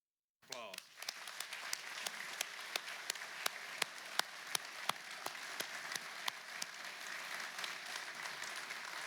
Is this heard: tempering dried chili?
no